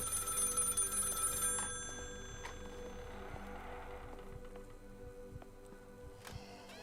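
Telephone ringing inside the horror video game Maid of Sker, a bell-like ring at the start that fades into quiet game ambience with soft scattered clicks, no talking.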